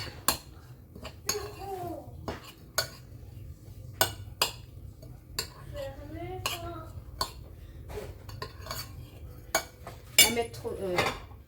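A spoon clinks and scrapes against a bowl while a mixture with sunflower oil is stirred for homemade chocolate, giving repeated sharp taps and scraping strokes close by, with a voice briefly audible.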